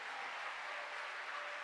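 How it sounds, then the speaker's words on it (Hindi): Devotees clap together at a religious discourse gathering, a steady dense wash of applause held at an even, moderate level throughout with no pauses. "एक बार भक्तों के लिए तालियां बजाइए"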